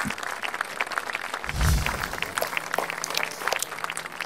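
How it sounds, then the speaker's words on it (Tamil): A studio audience claps for a young girl on a Tamil children's show, dense applause lasting about four seconds with a brief low thump in the middle, fairly close and continuous. "ஒரு கைத்தட்டல் கொடுத்துருங்க."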